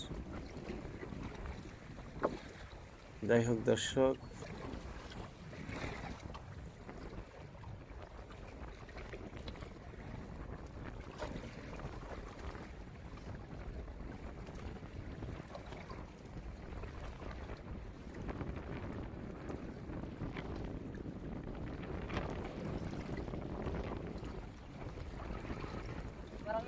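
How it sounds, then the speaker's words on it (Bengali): Wind buffets the microphone in a steady low rumble over the open, wave-covered Padma River, with a brief louder burst of noise early on and faint speech. "এই যে দেখেন কীরকম বাতাস"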